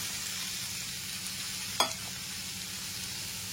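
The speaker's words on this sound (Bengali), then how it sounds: "ভেজে নেওয়া আলুগুলোকে দিয়ে কষিয়ে নেবার পর এর মধ্যে দিয়ে দিচ্ছি ভেজে নেওয়া ওলগুলো" Fried potatoes and elephant foot yam sauté in a pan over a medium flame, a faint steady sizzle with one sharp clack of a utensil midway, no speech.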